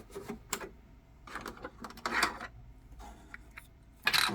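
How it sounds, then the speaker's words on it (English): A sewing machine stitches a denim jacket in short irregular runs, with clicks and light mechanical clatter between bursts, close and moderately quiet, no voices. "So it's time to sew."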